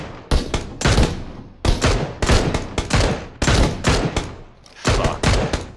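Rapid bursts of automatic gunfire from a PUBG match, several loud volleys in quick succession with brief gaps between them, close and harsh.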